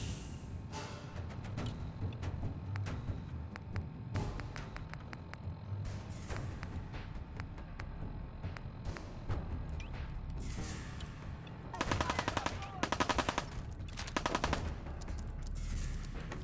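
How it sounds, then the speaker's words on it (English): Rapid bursts of gunfire from a double-barrel shotgun in the video game Fallout 4, loud and dense, with a cluster of sharp cracking shots late in the sequence over a constant noisy background. "This is a double barrel shot."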